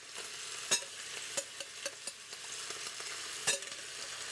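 Beef and onions frying in a pan while being stirred: a steady close sizzle broken by sharp scraping clicks of the utensil against the pan at irregular intervals, with no talk.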